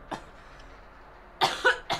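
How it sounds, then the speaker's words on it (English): A person coughs during a let's-play recording: one short cough, a quiet stretch, then a louder burst of two or three close, harsh coughs. "Riley's gonna cough."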